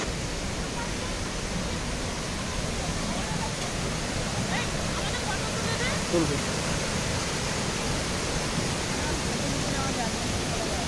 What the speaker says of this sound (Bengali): অদ্ভুত লাগছে এই পেছনের ঝর্ণাটাকে।